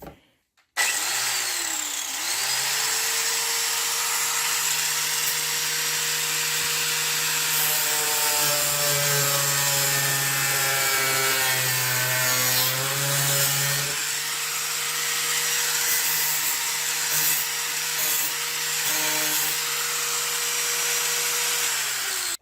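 Power tool cutting through the corner of a plastic fender flare in a shop, a steady continuous whine with shifting pitch as the blade bites, loud and close throughout.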